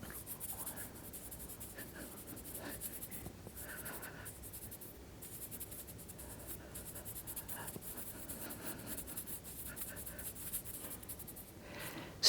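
A pen scratches across paper as someone writes by hand, giving a faint, continuous scratchy rubbing with small strokes and pauses, close and quiet, for about twelve seconds.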